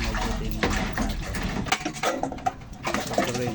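Plates being washed and rinsed under running water, with a steady splash and patter broken by soft clinks of dishware, close by, while birds coo faintly in the background.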